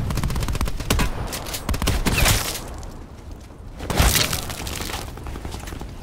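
Repeated loud bursts of video game gunfire, sharp cracking volleys with a brief lull before another heavy burst, no talk.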